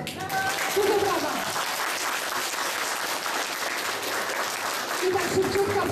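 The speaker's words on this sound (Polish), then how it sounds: "Dużo brawa." Audience applause fills a school hall after a primary school's Snow White play in Kolonia-Ostrówek, steady and dense throughout, with a voice speaking over it near the start and again near the end.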